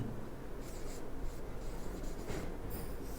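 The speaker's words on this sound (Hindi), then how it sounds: "यहाँ मैं एक वाक्य लिखता हूँ" Chalk or marker scratching steadily across a board as a sentence is written, a faint close-up rubbing texture over a quiet room hum, with no speech.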